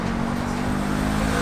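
A Honda car races past at around 200 km/h with no silencer fitted, its engine roar loud, steady and close for the whole moment, a continuous broadband rush with droning low tones.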